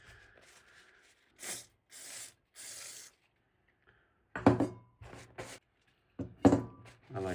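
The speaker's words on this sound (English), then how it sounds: "I like this brake cleaner stuff. It's really good to clean, for cleaning such gunky parts of your bike." Aerosol brake cleaner sprayed on gunky bicycle dropper post parts in short separate hissing bursts, some quick pairs, with quiet gaps between, no talk.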